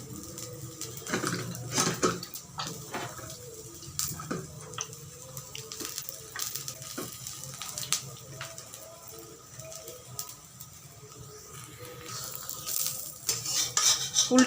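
Bengali vegetable paratha frying in a pan, with a utensil scraping and clinking against the metal alongside a light sizzle, in irregular bursts close by, plus some running water and kitchen clatter.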